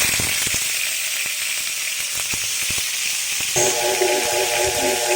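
Fish frying in oil in a pan: a loud, steady sizzling hiss with scattered crackles and pops, close up. A faint tonal hum joins partway through, and no one speaks.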